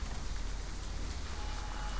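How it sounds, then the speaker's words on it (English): Steady rain patters across a surface inside a room in the Roblox game Doors, a dense, even hiss that holds at constant level throughout without any voices. "It's raining in here."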